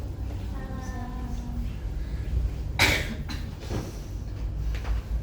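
A single harsh cough from a person with COPD bursts out mid-clip, followed by a fainter second one, against a low steady hum and a faint tonal background.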